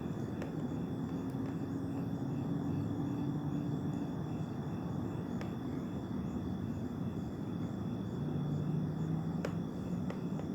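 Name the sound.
airplanes flying around overhead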